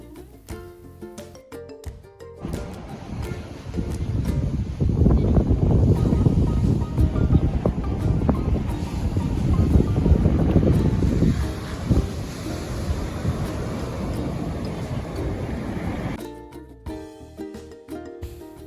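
Strong gusts of wind on a cold beach at Anna Maria Island, Florida, buffet the microphone in heavy rumbling bursts, with a faint wash of surf beneath; no one speaks.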